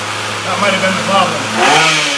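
A Ryobi weed whip's small engine races at high revs, a loud, close buzzing whine that rises and wavers over about two seconds.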